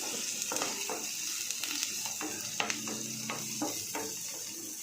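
Chopped garlic and onion frying in a hot pan, giving a steady, bright sizzle with scattered crackles and a few soft stirring clicks, close and alone without talk.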